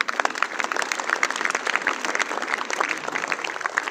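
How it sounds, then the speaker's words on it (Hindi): A school audience at a district-level sports ceremony claps loudly and continuously to welcome medal-winning staff players, a dense, close, unbroken wash of applause throughout. "आप भी उनका जोर शोर से तालियों के साथ भी सहयोग करेंगे"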